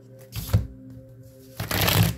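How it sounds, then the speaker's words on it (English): A deck of playing cards is shuffled twice in quick riffling bursts, a short one early and a longer, louder one near the end, with a faint steady hum between them. "I'm gonna shuffle again because I don't want this."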